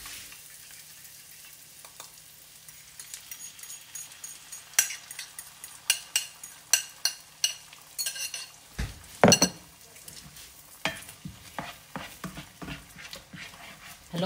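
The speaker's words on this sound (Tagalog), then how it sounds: "Haluin lang natin ang haluin guys." Sardines being stirred in a frying pan, with a soft sizzle underneath and a series of sharp utensil scrapes and clinks against the pan, growing busier toward the end.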